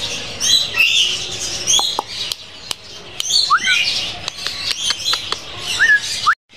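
Several Patagonian conure parrots at an exotic bird farm give loud, harsh squawks and rising whistled calls, overlapping and near, over a busy chatter of other birds.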